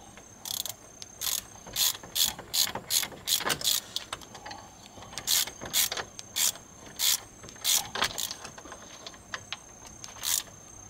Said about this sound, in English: So let's go ahead and tighten this down where I think it's good.